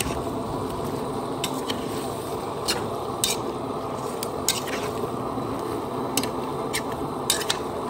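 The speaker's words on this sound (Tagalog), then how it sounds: "Tapos hahaluin po natin siya." Chicken tinola is stirred in a cooking pot, a continuous wet, bubbling churn punctuated by light, irregular clinks of the spoon against the pot.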